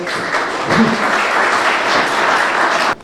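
An audience at a patriotic Independence evening event applauds an invited colonel as he comes up to speak, with loud, close, steady clapping that stops abruptly at the end.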